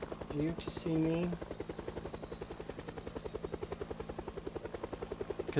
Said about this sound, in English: Because the helicopter sound source is over there, not directly over me.